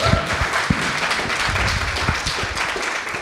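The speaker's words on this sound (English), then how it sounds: "Give yourselves a round of applause" A live podcast audience at a conference in Germany applauds steadily, a dense wash of many hands clapping close and loud throughout with a few sharper claps standing out.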